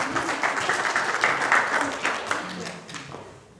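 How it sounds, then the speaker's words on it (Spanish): A church congregation applauding together, steady dense clapping that swells and then fades toward the end, with some voices mixed in. "Denle un aplauso a Eli, qué preciosa mujer"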